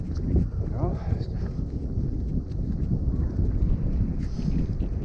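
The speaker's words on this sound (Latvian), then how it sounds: "Vējals tāds." Steady wind rumbles and buffets the microphone at a lakeside fishing spot, a constant low roar filling the whole stretch.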